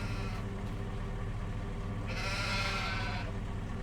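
Sheep bleat in Farming Simulator 25 after being unloaded into husbandry, a single drawn-out bleat rising faintly over a steady low game hum.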